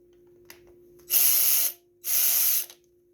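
A bolt under the primer button being unscrewed from the carburetor of a Craftsman 5.5 hp pressure washer, heard as two separate bursts of rasping ratchet clicks, each about half a second long, close up with no talk.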